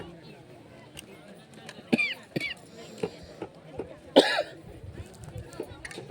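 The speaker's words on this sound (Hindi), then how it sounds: "खांसी बहुत परेशान कर दी।" A man coughs a few times, short harsh bursts close by, between stretches of his speech in a quiet indoor setting.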